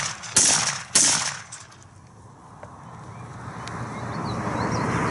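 Two sharp, loud blasts from a Mossberg 935 semi-auto 12 gauge shotgun firing steel shot shells, about half a second apart, each followed by a rolling echo that fades into quiet outdoor ambience.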